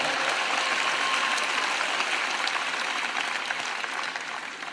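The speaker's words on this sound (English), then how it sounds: "Y'all please give them a round of applause too." A crowd applauds at a Trump 2024 campaign rally, a soft, even wash of distant clapping that holds steady for nearly five seconds, with no voices on top.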